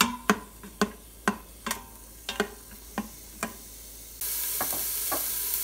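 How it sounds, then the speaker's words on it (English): Yellow bell pepper and other fresh vegetables sautéing in an Instant Pot, with sharp stirring clicks of a utensil against the pot over a soft, steady sizzle; the hiss swells louder near the end. "You can hear it sizzling quite well"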